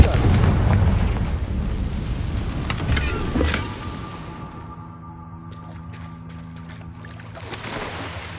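A Confringo blast spell in a Harry Potter video game erupts as a loud, rumbling explosion that fills the first few seconds, then gives way to quieter crackling debris and low ambient game sound.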